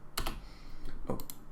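Quick bursts of keystrokes on a computer keyboard, two short clusters of crisp, close clicks separated by a pause, with no voices.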